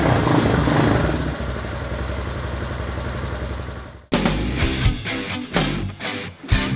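A carbureted Honda Hawk 250 motorcycle engine runs loud and steady, then is snapped open into a series of sharp, stumbling revs that rise and fall close to the microphone.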